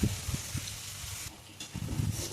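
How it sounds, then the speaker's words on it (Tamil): Tomatoes sauté with a little salt in a pan as a chicken dish begins. The sizzle is soft and close, with a few faint stirring knocks. "ஓகே, இது அப்படியே இருக்கட்டும், அதுவே தக்காளி வதங்கிடும்"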